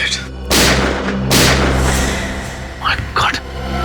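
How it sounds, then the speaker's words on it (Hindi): Gunfire sound effects from a TV crime drama: several heavy booming shots ring out, with a voice talking between and over them. "गोली चलने की आवाज।"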